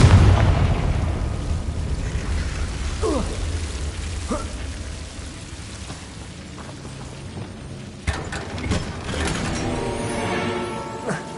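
A Confringo blasting spell from a Harry Potter game erupts with a deep, rumbling boom that fades into a long, hissing, crackling tail, with a sharper burst of debris-like crackle near the end.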